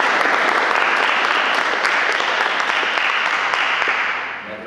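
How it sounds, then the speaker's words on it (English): Audience applause at a state-of-the-state event, a dense burst of many hands clapping together, loud and sustained before tapering off toward the end, with no voices over it. "Let's give a little round of applause."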